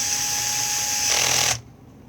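A power driver whirs steadily while tightening screws on a Prusa 3D printer hotend, rising briefly in pitch and effort before cutting off abruptly, close up and alone.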